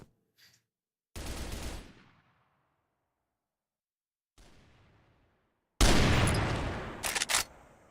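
Sniper rifle fire in the shooter CrossFire during a tournament match: a few loud, separate blasts with decaying echoes, split by long silences, one faint shot in between and a final burst with sharp metallic clicks.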